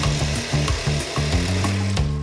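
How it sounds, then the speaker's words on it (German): A power drill bores a hole into a scrap wood board, a close, loud, buzzing whir that shifts pitch in short steps as the bit bites through the wood. "nehme ich irgendein Opferholz oder eine Restplatte, die ich habe und bohre das Loch hier rein"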